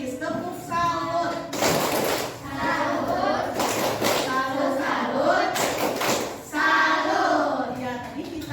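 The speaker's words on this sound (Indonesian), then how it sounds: "Tepuk salut untuk Bilkis, tepuk salut." A classroom of children performs a rhythmic group clapping cheer, sharp bursts of claps in patterned sequences, with children's voices chanting along between the clapping.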